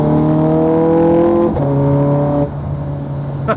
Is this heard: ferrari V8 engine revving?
yes